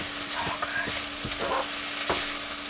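Food sizzles and fries steadily in a pan inside a camper van during winter camping, with a soft continuous crackle and a few clinks of stirring against the pan.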